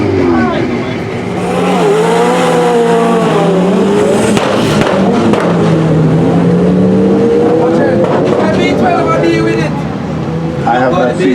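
A drag racing car accelerates hard down the strip at Vernamfield, Clarendon, with a loud, sustained engine roar whose pitch rises and falls through gear changes. Talk can be heard over the engine noise.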